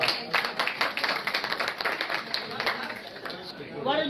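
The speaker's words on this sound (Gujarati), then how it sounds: "એક વખત જે બી બધા ટ્રસ્ટી છે એની વાઈફ માટે તાળીઓ પાડો" A hall audience at a community gathering claps for the trustees' wives, with brisk, scattered applause continuing for a few seconds, fairly close and alone.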